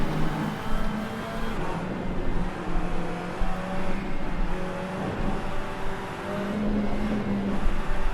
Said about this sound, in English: The car doesn't sound anything like McLaren.